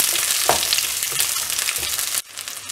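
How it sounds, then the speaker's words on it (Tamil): Onions, green chillies and whole spices fry in a pan for mushroom cashew gravy, giving a close, steady sizzle with light stirring scrapes. "இதுலேயே வெங்காயத்தை ஆட் பண்ணிடலாம். பச்சை மிளகாவையும் ஆட் பண்ணிடலாம். இதெல்லாம் நல்லா ஃப்ரை பண்ணிடலாம்."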